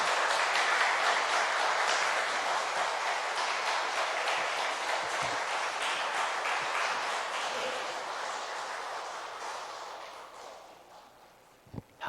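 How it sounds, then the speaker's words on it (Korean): A church congregation claps to welcome the pastor at a Sunday morning service, a dense sustained applause that fades out gradually toward the end. "우리 서상복 목사님 나오실 때 박수로 환영해 주시면 고맙겠습니다"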